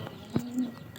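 A domestic pigeon with freshly hatched squabs gives a single short, low coo close by, surrounded by quiet room tone.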